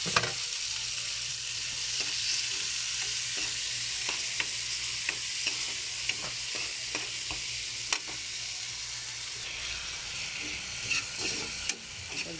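Tomatoes sizzle in a pan with garlic and onion for a fish dish, a steady frying hiss broken by repeated scraping stirs from a spatula, with no talking.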